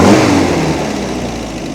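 MGB engine revs up hard and then settles back from a loud, steady roar toward idle during carburetor tuning on an autocross car, close and continuous with no talk.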